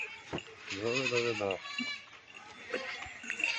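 Goats at a sale bleating loudly nearby, one long wavering bleat standing out, with someone talking throughout and faint farmyard noise behind.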